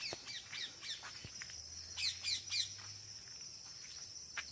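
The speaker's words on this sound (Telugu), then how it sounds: "రామచిలుక అయితే పైన కూర్చొని ఎంత బాగా సౌండ్ చేస్తూ ఉందో" A parakeet perched up high gives repeated shrill, squawking calls in quick bursts, with a steady insect drone running underneath and no talking.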